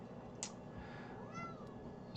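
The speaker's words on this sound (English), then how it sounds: "Hi, kitty. You may hear him in the background." Housecat meowing faintly in the background of a quiet room, one drawn-out meow in the middle and short chirps at the edges over a low hum.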